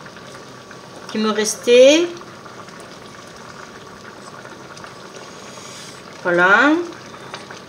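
Chicken in coconut milk curry simmers in a pan with a steady soft bubbling throughout, and someone speaks briefly near the start and again toward the end.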